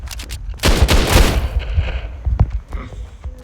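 Video game gunfire crackles in bursts, a loud rapid fusillade early on followed by scattered single shots, with players talking over the action.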